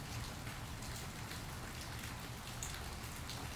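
Steady spring storm rain falls in a dense, even hiss of drops hitting surfaces, constant and close with no voices.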